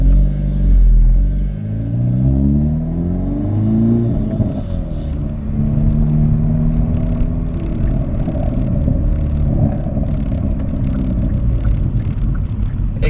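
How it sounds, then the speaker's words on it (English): A Hyundai Veloster N with a louder exhaust rumbles while driving, its engine tone rising and falling through gear changes, with faint crackling exhaust pops under the steady drone from inside the car. "those little pops are definitely more audible"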